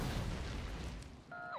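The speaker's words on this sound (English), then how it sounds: "Grenade time." A single grenade blast in the factory-building game Factorio, a low rumbling boom filling the start and slowly fading, followed by a couple of short bright synthetic tones near the end.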